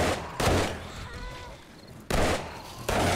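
Loud bursts of gunfire in 7 Days to Die as zombies are shot, three heavy blasts separated by short gaps of quieter game ambience.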